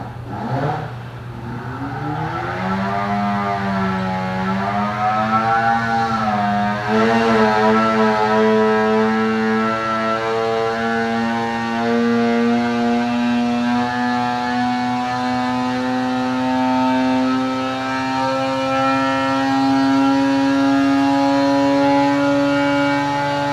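A 2020 Arctic Cat Alpha Riot snowmobile engine with a Bikeman Stage 1 setup runs on a dyno. Its loud, steady whine climbs in pitch, briefly wavers, then holds a high, sustained roar close by for over twenty seconds.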